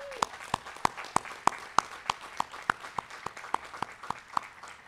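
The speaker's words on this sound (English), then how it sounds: "please give the parents and guardians a big round of applause" Clapping from a high school graduation audience honoring parents and guardians comes as about sixteen crisp, evenly spaced claps in a steady rhythm at moderate distance.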